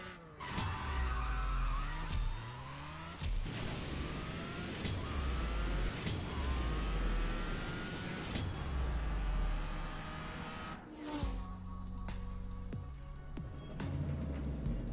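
A Toyota GR Supra drag race in the CSR2 mobile racing game: the engine revs hard and climbs through repeated gear shifts, with nitrous engaged in third gear. The game audio is loud and continuous, with brief drops at each shift and no talk.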